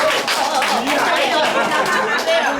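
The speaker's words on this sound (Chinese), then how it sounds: "给我们队长一个掌声。" A crowd at a Taiwanese-language Presbyterian church service claps for the choir leader: steady, dense applause lasting a couple of seconds, with some chatter and light laughter mixed in.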